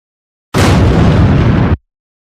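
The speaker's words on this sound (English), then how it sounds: "I am choosing a blast sound for it." A single loud, broadband blast sound effect, a dense roaring burst lasting just over a second that cuts off abruptly, with silence before and after.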